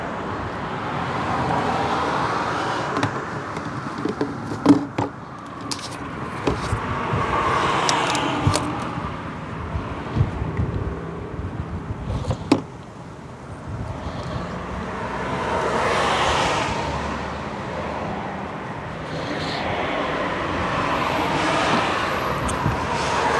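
A Ford Grand C-MAX with a Powershift gearbox idles to circulate gearbox oil, a low steady engine hum with occasional clicks and clanks nearby, rising slightly toward the end.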